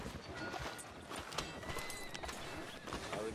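Horse hooves clip-clop faintly in Red Dead Redemption 2 as a horse is ridden through a town street, soft irregular hoof beats under ambient game sound and murmured voices.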